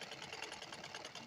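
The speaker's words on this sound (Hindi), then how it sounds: "यहाँ पर भी हम मुड्ढा पर आधा इंच पर सीधी सिलाई देंगे" A sewing machine runs a straight stitch along the shoulder seam of a lined blouse, a quiet, fast, even whirring pulse throughout the short burst, with no talking.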